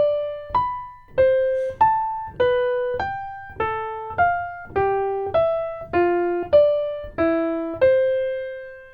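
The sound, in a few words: interval lick played as separated notes, lower then higher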